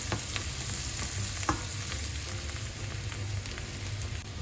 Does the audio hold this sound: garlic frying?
yes